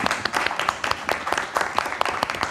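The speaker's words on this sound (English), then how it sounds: "Yes, let's clap." A small online showcase audience claps after a presentation: a handful of separate, fairly close claps in a loose, uneven rhythm rather than a full ovation.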